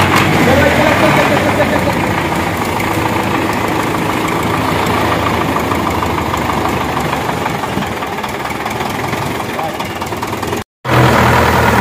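A jugaad-modified tractor engine runs at idle, a loud, rough, continuous mechanical drone with knocking texture close by, broken by a brief dropout near the end.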